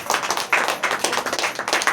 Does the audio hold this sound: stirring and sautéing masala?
no